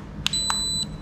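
An SJRC F11S 4K Pro drone's remote controller, version two, gives a few short, sharp electronic beeps in quick succession over a faint hiss, with no voices.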